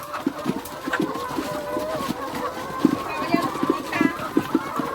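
Chickens cluck and squawk in a busy flock at a laying-hen farm in Laos, short bursts scattered throughout, with people talking nearby underneath.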